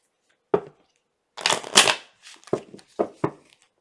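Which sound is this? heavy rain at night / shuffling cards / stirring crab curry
shuffling cards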